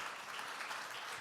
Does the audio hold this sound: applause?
yes